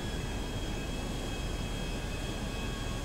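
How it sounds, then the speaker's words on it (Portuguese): An airplane takes off in GTA V Online, its engine a loud, steady, broadband roar with a faint high whine held throughout. "Caramba, já decolando já. É, já começa decolando."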